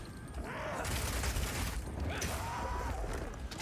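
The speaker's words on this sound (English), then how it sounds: "Being able to run while shooting with rapid shot is also great for when you want to." Rapid shot bow firing in Path of Exile 2 produces a run of mechanical clacks, creaks and soft impacts over a few seconds, fairly quiet beneath game effects.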